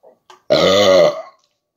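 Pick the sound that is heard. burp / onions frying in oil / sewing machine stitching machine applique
burp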